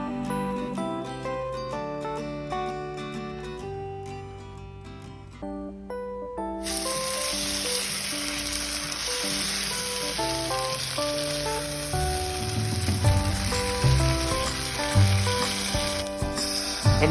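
Flour is stirred into vegetables frying in a pan for beef stroganoff. The dense hiss of sizzling fat swells after a stretch of melodic music, and a steady frying crackle continues to the end.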